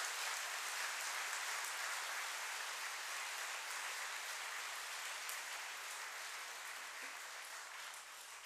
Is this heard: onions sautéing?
no